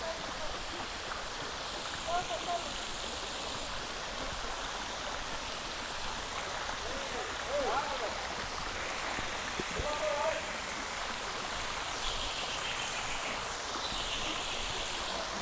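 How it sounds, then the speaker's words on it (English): A waterfall on Mount Isabel de Torres, Dominican Republic, rushes and splashes steadily into a pond, a dense unbroken roar of falling water, fairly close. "I love the sound of just falling water, waterfalls, fountains."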